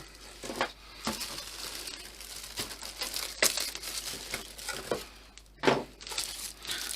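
RC plane wings from a Durafly Comet kit are pulled out of sealed plastic bags, making irregular crinkles and tearing rustles up close, fairly quiet, with no talk.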